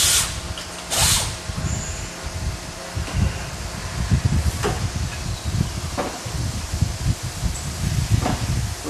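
CNC machining center drilling parts held on a tombstone fixture, a steady mechanical whir with scattered clicks and brief chip-rustling bursts throughout, moderately loud and close, no voices.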